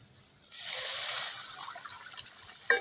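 Water poured into a pan of cooked-down egg curry spice mix, a short soft splashing stream that starts abruptly, trails off into a gentle trickle, and ends with a small clink.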